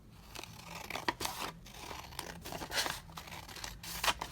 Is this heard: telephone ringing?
no